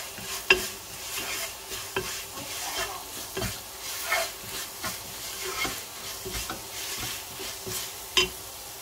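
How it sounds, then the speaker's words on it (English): Homemade pilau masala frying in a pot, with a soft steady sizzle under repeated stirring strokes and scrapes, plus a few sharper knocks of the spoon against the pot. "I'm going to keep stirring for about 2 minutes"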